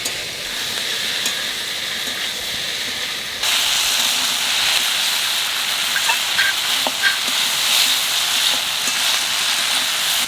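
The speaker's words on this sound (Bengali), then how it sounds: "ভেন্ডি ভাজা হয়ে গেছে" Okra frying in a pan gives a steady sizzling hiss that grows louder partway through and continues with small pops, close up, with no talking.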